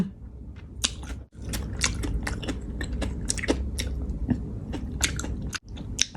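Close, loud crunchy chewing of a raw Lao-style beef dish served with bitter jaew dipping sauce and fresh beef bile, with wet, rhythmic bites and crisp crunches that continue with only brief pauses.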